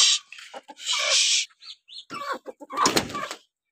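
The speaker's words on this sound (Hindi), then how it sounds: "तो गाइज इन मुर्गियों को मैं बाहर निकाल लेता हूँ।" Chickens flap their wings in a few quick bursts, with short clucks and chirps scattered between the flutters, close by.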